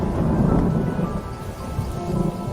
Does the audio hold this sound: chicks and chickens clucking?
no